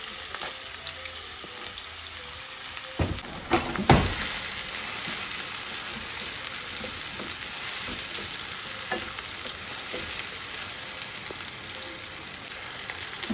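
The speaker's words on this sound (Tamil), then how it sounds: "ஸோ எண்ணெய் சூடானதுக்கப்புறம் நம்ம நறுக்கி வச்ச வெங்காயம்," Chopped onions fry in hot oil in a kadai for a green gram curry, giving a steady, dense sizzle throughout with a couple of louder stirring scrapes near the start and no talking.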